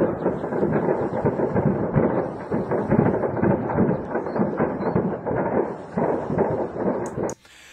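An ammunition depot in Voronezh explodes, sending out a dense, continuous roll of heavy booms and rumbling secondary detonations that stays loud throughout and then cuts off abruptly near the end.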